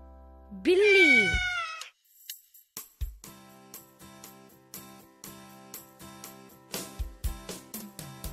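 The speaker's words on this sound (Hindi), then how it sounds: "बिल्ली" A cat gives one loud, drawn-out meow that rises and falls, followed by a stretch of light plucked background music with soft rhythmic notes.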